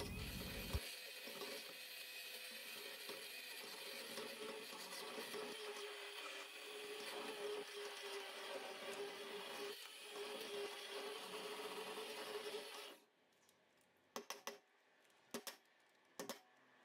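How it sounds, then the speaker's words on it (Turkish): A blender whirs steadily through thickening milk pudding for a Turkish pan-made kazandibi, a continuous loud motor drone lasting about thirteen seconds before cutting off, followed by a few short clicks and knocks. "En son blenderla tekrardan çekiyorum"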